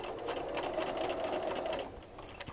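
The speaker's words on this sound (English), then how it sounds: "I'm going to go ahead and sew that all the way down." A sewing machine stitches quilt fabric at a steady, close whir that runs for about two seconds, then stops abruptly, leaving a few faint clicks.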